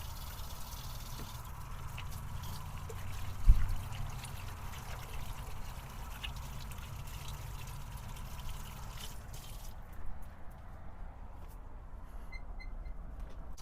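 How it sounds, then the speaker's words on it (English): Water runs from a tap during handwashing inside a box truck camper conversion at a beach campsite, a soft steady trickle and splash with a few faint bumps and clatters. "I like to wash my hands before I start cooking"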